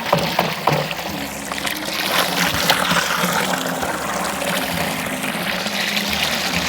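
Water splashing and trickling steadily as wild yam is rinsed, a continuous close wash of pouring and sloshing with no talk.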